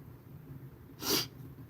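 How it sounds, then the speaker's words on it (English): A single sharp sneeze bursts out close up, a brief breathy blast rising over soft background hum. "why am I sneezing?"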